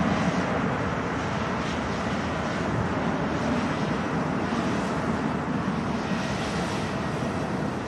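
An EasyJet airliner bound for Geneva at Manchester Airport gives a steady, broad jet roar mixed with gusty wind rumble, continuous and moderately distant.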